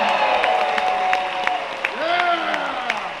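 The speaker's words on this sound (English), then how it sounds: "Everybody, big round of applause" Crowd applause at a convention opening ceremony, sustained clapping mixed with cheers and a rising whoop, loud and close, with voices carrying over the din.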